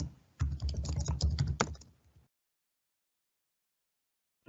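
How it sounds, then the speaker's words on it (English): Rapid keystrokes clatter on a computer keyboard while typing into a Microsoft Word document. A close, busy burst of clicks lasts about two seconds, then stops into silence. "I can then type, and then I can start."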